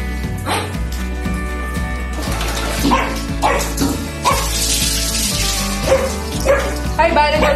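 A pug puppy named Simba barks, yips and whimpers in protest during a bath in a bathroom, loud and close in repeated bursts, with splashing water and music playing underneath.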